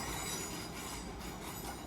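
Class 350 electric train passing at Watford Junction, a steady continuous rumble with wheel squeal and rail noise filling the whole stretch, loud and close with no talk.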